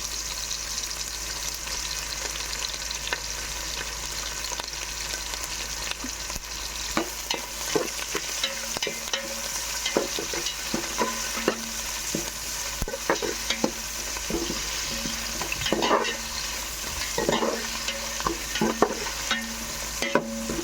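Curry leaves and spices frying in a pan until they change colour, with a constant hiss of hot oil and frequent sharp scrapes and taps of a spatula, close and even.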